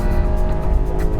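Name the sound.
Volkswagen Tiguan 4Motion accelerating hard from a launch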